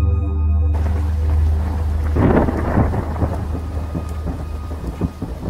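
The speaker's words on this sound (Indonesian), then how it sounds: "tiba-tiba kedengeran tuh suara gemuruh kayak mau hujan, dan juga udah sedikit turun gerimis" Thunder rumbles loudly and continuously while light rain patters throughout, opening with a brief steady tone before the storm swells into a heavy, close roll around the midpoint and then settles into ongoing rain and low rumble.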